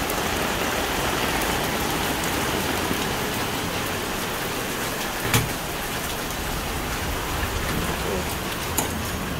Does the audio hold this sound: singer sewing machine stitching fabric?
no